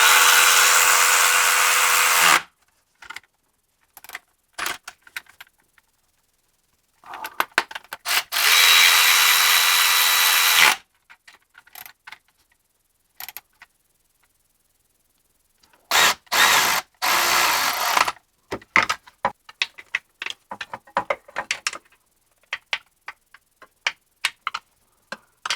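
Hand ratchet tightening bolts on a BMW E90 N54 during an oil pan gasket job: loud bursts of rapid metallic ratcheting, several seconds each, separated by quiet gaps and lighter scattered clicks, close by with no talking.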